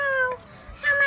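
A cat meows twice in a quiet indoor setting, one short close call at the start and a second rising call near the end, with a brief pause between.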